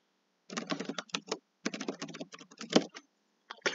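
Keys clatter on a computer keyboard as an email address is entered, close and crisp in quick bursts separated by short gaps.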